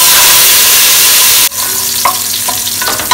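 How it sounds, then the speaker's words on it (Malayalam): Raisins frying in hot oil sizzle loudly and steadily, the hiss dropping abruptly partway through to a lower, softer crackle with a few clinks of stirring, no voices. "നമുക്ക് കുറച്ച് മുന്തിരി വറുത്തെടുക്കണം"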